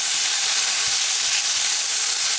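Pork chops sear in a hot pan with a loud, steady, close-up sizzle and hiss that runs without a break, with no talking over it.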